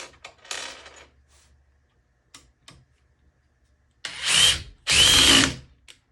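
A quiet impact driver runs in two short, loud bursts near the end, preceded by faint ticking and small handling clicks, with nobody speaking.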